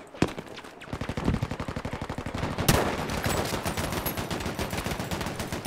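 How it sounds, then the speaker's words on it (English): An enemy machine gun in the video game Battlefield 5 fires long, fast, evenly spaced bursts close and loud, with a sharp blast partway through and sustained rattling to the end. "Enemy machine gun."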